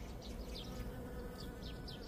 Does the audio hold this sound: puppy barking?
no